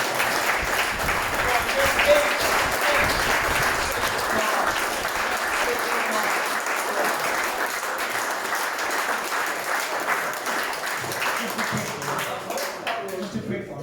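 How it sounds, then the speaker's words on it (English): A large audience gives a sustained round of applause, dense clapping holding steady throughout and thinning slightly toward the end, with voices mixed into the crowd. "Get a massive round of applause for that"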